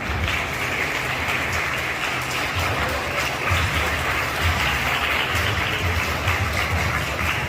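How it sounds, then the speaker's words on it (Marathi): Audience at a school annual prize-giving ceremony claps steadily, a dense continuous wash of many hands that holds at an even level throughout with no voices on top. "त्यासाठी जोरदार टाळी स्वतःचे आणि आपल्या मित्रमैत्रिणींचे आपण कौतुक करणार आहोत"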